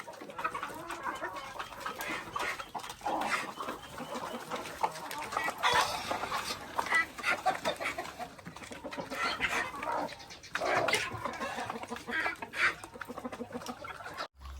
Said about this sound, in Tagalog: pinakain na natin yung ano, mga pabo saka gansa